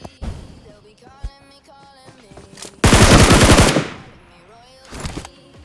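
Gunfire in BGMI on an iPhone 15, with a loud burst of rapid automatic fire in the middle framed by scattered single shots and game effects before and after.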